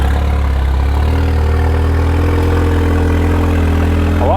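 A turbocharged car engine idles loudly and steadily nearby, a deep continuous rumble with a slight rise in pitch near the end.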